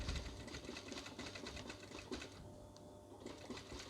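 A sewing machine stitches steadily, re-sewing piping close against buckram on an interlined curtain tie-back, a quiet but continuous rapid whirring chatter heard up close.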